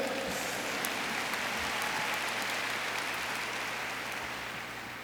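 Audience applause at a 2011 commencement ceremony: a dense, steady wash of clapping from a large crowd that fills the whole stretch and tapers slightly near the end.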